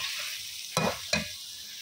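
Potatoes frying with spices over a low flame for aloo gobhi, a soft steady sizzle broken by two brief scraping stirs of a spoon in the pan, close and moderately quiet, with no talking.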